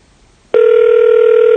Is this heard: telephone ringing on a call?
yes